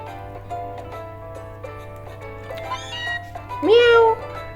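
A cat Pokémon in Pokémon Sun lets out several game meows, closing on one longer, louder rising cry, over a low background hum.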